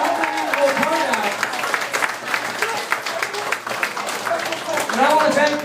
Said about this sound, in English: Let's give Luma Gretchen Shirley a great round of applause